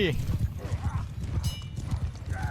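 Horse hooves clip-clop in a steady rhythm in Mount & Blade II as riders travel, with a brief neigh and faint gear-like clatter, heard under talk.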